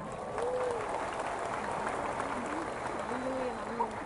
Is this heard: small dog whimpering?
no